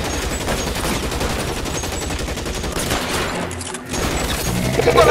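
Gunfire in L.A. Noire, a close and loud barrage of rapid shots that keeps going with only a short dip near the end before the shooting resumes.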